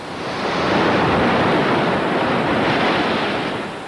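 Mediterranean sea waves make a loud, continuous broadband roar of surf and open water, steady and enveloping, with wind rushing across the microphone and no voices.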